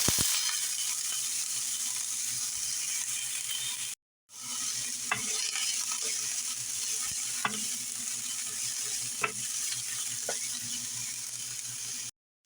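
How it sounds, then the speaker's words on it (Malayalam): Chopped onion frying in coconut oil in a pan for a Kerala-style beetroot dish, a steady close sizzle with scattered stirring clicks, two brief silent gaps. "ഇനി ഇതിലോട്ട് ഒരു സവാള ചെറുതായി കട്ട് ചെയ്തിട്ടുള്ളത് ചേർത്ത് കൊടുക്കാം."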